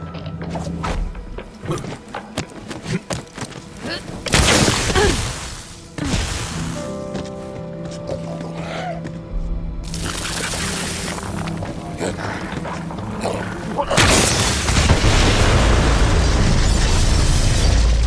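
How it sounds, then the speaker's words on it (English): Loud booming explosions burst out several times amid clanking mechanical noises and rumbling in the video game Borderlands 3, each blast leaving a long, noisy roar behind it. "The explosion echoed through the forest"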